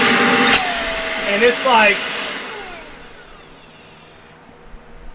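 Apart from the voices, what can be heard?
small handheld micro vacuum cleaner running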